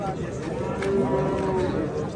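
Young bulls at the Osh livestock market, Kyrgyzstan, moo and low amid the general bustle of a crowded animal bazaar, with faint voices in the background.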